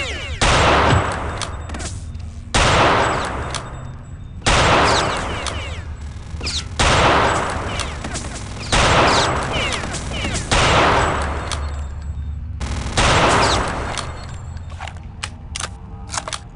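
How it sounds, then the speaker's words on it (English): Sustained bursts of rapid Gatling gun fire in Return to Castle Wolfenstein, loud and dense, coming in long volleys of roughly two seconds separated by brief gaps. "Okay, there's somebody with a Gatling gun."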